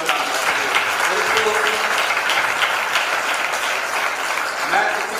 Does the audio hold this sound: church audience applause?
yes